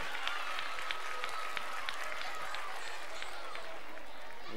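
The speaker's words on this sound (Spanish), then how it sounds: "¡Un aplauso, Alejandro, el mago!" A seated audience at a charity magic gala claps steadily for a child magician named Alejandro. The applause is a dense, even patter with a few sharper claps standing out.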